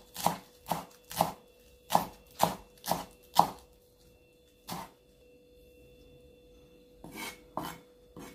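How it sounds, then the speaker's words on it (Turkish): A knife chops parsley finely on a board in a quick run of about eight crisp, close taps, then a pause and a few more sparse chops, with no talking. "Şöyle hemen olabildiğince ince kıyacağız."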